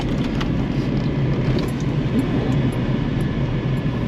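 A VL car fitted with upgraded VT brake parts accelerates along a back street, its engine and road noise a steady, loud roar heard close up from inside the car.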